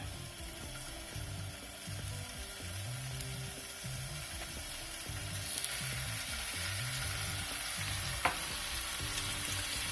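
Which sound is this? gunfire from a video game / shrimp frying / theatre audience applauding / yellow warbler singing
shrimp frying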